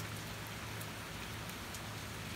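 Steady rainfall with a dense, even hiss of drops and no break, moderately quiet and heard alone without voices.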